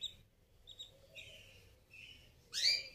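Newly hatched canary chicks giving thin, high chirps and peeps, soft and close, in scattered short bursts with a louder squeaky call at the end.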